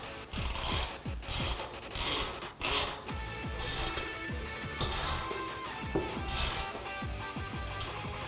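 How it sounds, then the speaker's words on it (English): A 16mm wrench and socket ratchet tighten the bolts on a Smittybilt 2-inch receiver hitch rack for a Jeep Wrangler, with steady clicking ratchet strokes and metallic turning sounds repeating close by. "we're gonna go ahead and tighten those down with a 16mm wrench and a 16mm socket"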